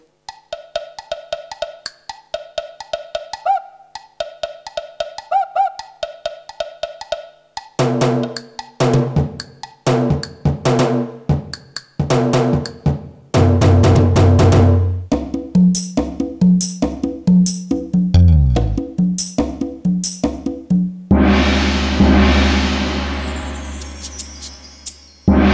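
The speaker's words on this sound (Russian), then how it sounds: "А вот как звучит перкуссия." Percussion sounds from a Boss DR-880 drum machine, a rapid sequence of cowbell-like clinks, bells and hand drums that builds into denser, louder hits and ends with a crash-like burst, with no talking.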